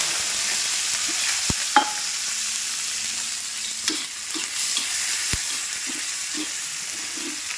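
Onions and tomatoes fry in hot oil with garlic, giving a steady broadband sizzle with occasional stirring scrapes and clicks from a utensil against the pan.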